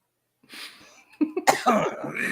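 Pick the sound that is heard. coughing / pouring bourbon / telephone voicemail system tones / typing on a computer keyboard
coughing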